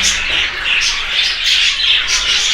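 Several cockatiels squawk in repeated shrill, harsh calls, loud and close, overlapping in a steady chorus.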